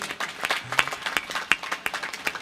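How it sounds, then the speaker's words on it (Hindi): Sparse, scattered handclaps from a small audience at a comic song performance, individual claps spaced out and fairly close, with no talk over them. "जरा एक बार मिलकर के तालियां बजाइएगा"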